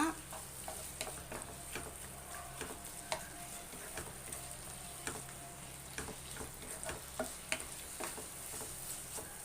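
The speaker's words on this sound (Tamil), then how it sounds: "நான் நல்லா மிக்ஸ் பண்ணி விட்டுக்குங்க" Tomato pickle frying in a pan with ground mustard and fenugreek powder, stirred steadily: a continuous sizzle under repeated scraping strokes of a spoon, close and moderately loud, with no talking.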